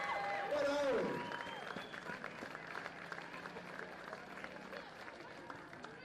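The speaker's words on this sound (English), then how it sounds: "A nice round of applause, please" Crowd applause at a sports medal ceremony, a loud burst of clapping at the start that fades to scattered, thinning claps, with a voice speaking over it.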